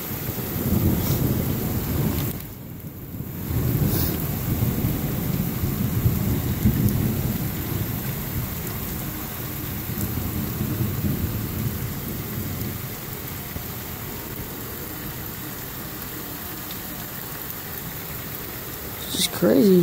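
Loud thunder rumbles over steady rain in a lightning storm at a house in Los Banos, California, with a brief lull then renewed rolling crashes and a sharp burst near the end; low speech may be mixed in.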